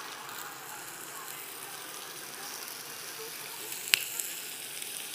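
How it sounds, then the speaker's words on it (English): Mini osso buco pieces sizzle and brown in a pan, a soft continuous frying hiss heard close, broken by one sharp pop and a couple of faint ticks near the end. "You can hear that sizzling"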